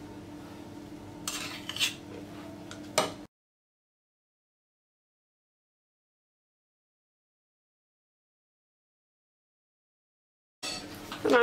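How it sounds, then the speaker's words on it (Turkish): Cream is spooned into a piping bag set in a jar, with quick clinks and scrapes of the spoon over the first few seconds. A long silent gap follows, then a short clatter at the end. "Sıkma torbasını şöyle bir kavanozun içerisine oturtturdum. İçerisine kremamı dolduruyorum."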